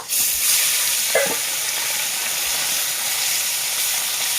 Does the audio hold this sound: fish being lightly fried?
yes